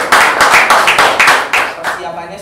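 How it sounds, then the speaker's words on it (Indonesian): Audience clapping at an Indonesian youth forum on the 2019 presidential debate, loud and close, in uneven bursts that swell and fade over a couple of seconds, with some voices mixed in. "Tepuk tangan dulu semuanya."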